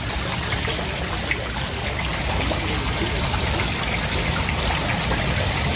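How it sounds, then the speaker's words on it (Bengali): Decorative fountain water at Grand Sultan Tea Resort & Golf in Sreemangal, a steady, fairly loud splashing and trickling flow that continues unbroken throughout. "এই পাশের এই ঝর্ণাগুলো দেখেন কত সুন্দর।"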